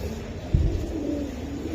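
Racer and Giribaz pigeons give a soft, low coo, brief and fairly faint, after a single close thump, set against a steady background hiss.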